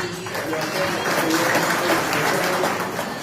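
An audience at a Marathi public meeting about gram panchayat workers' demands claps steadily at fairly close range, a dense, continuous patter of many hands holding the same level throughout, with voices mixed in.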